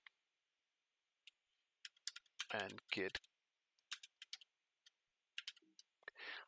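Quick clattering keystrokes on a Windows computer keyboard, scattered in short bursts and single taps, close and crisp, while someone speaks briefly in the middle and near the end.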